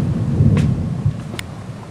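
Thunderstorm in the Temagami backcountry along a canoe route, a loud low roll of thunder over falling rain with a couple of brief crackles, no talk.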